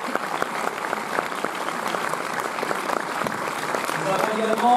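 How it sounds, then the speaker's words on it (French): Steady applause from a cinema audience at a UGC Bercy preview screening, a dense wash of clapping that carries on throughout with some voices audible in the crowd. "donc je vous demande d'applaudir"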